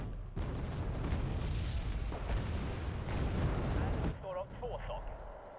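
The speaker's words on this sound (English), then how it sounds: "Look at the artillery also just pinning our opponent down" Rolling artillery fire in a tank video game, a steady din of booms and blasts filling most of the stretch before dropping away, with a voice talking briefly near the end.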